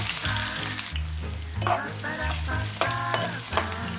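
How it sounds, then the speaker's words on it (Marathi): Mustard seeds and cumin dropped into hot oil crackle and sizzle loudly with sharp pops, alone and close for a few seconds. "तेल गरम झालेलं आहे, त्यामध्ये मोहरी आणि जिरं टाकून घेऊ।"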